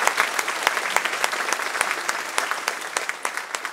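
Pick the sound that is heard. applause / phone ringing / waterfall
applause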